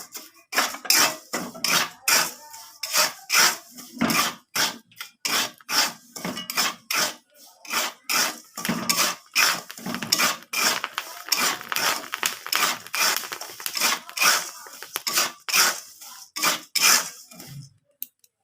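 Rice grains pop into puffed rice in hot salt in a covered pan over a gas flame, a rapid, dense rattle of sharp pops and clatters that thins out and stops near the end.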